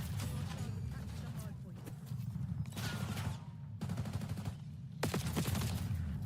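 Gunfire in Call of Duty Black Ops 6, a shotgun booming in a few heavy bursts among rattling shots, under a constant low game rumble with a player talking over it.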